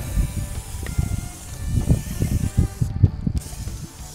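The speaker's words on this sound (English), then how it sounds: "I'm gonna hit this rebar with some cooking spray." A series of short hissing bursts of cooking spray onto rebar, close and fairly loud, in an uneven rhythm with a brief pause near the end.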